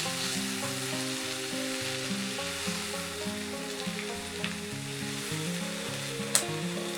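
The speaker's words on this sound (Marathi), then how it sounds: "हे मशरूम्स पण आपल्याला परतवून घ्यायचे" Mushrooms sauté in a pan for mushroom soup, with steady soft sizzling and occasional stirring clicks running throughout, close and fairly quiet.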